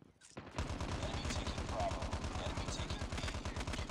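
An M4LMG light machine gun in the video game Call of Duty Mobile fires a long, continuous, rapid burst of evenly spaced shots, loud and close.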